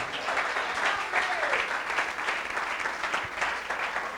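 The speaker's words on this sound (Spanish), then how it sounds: "Aplauda fuerte al Señor." A church congregation applauds loudly and steadily during an evangelical preaching service, a dense, continuous clapping that fills the room without pause.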